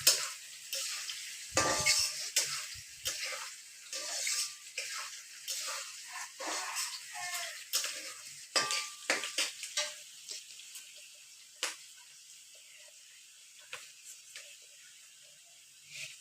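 Fried rice being stirred in a pan, repeated scraping and clattering strokes of a spatula over a hissy sizzle, busier at first and thinning out later, with no talking.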